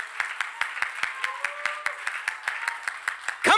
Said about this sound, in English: I think we ought to put our hands together and clap for the Lord in this house.